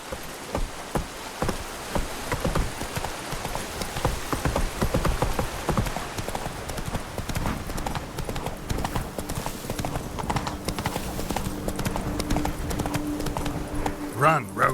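Roach, a horse in The Witcher 3: Blood and Wine, gallops through rain with rapid, steady hoofbeats over a wet hiss of falling rain, while a voice speaks over the action.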